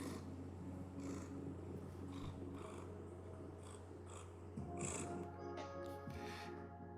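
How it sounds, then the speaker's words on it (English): Cat purring: a faint, continuous low rumble that runs steadily through the whole clip, close and soft, with no voices. "What a beautiful purr. That's my cat's purr."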